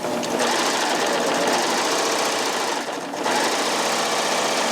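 Baby Lock Triumph serger running steadily at speed while sewing a rolled hem, a loud continuous whirring motor with a rapid stitching buzz and one brief dip near the end.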